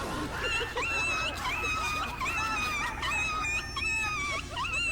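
Dog whimpering and yelping in high, wavering whines with short barks mixed in, continuous and fairly close, with faint voices in the background.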